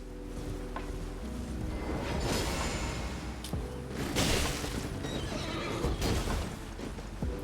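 A horse in the video game Elden Ring whinnies loudly against a dense wash of battle noise, with swooshes and heavy thuds as the fight against a mounted foe goes on.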